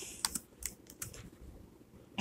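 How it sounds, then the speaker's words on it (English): Close, quiet typing on a computer keyboard: a short run of scattered key clicks with a sharper cluster at the end, no voices present. "I'll type that on my list now."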